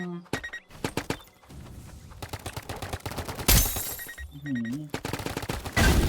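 Paintball guns fire in Roblox BIG Paintball 2 in rapid, sharp bursts, loud and close, broken by brief pauses, with excited voices talking over the shots.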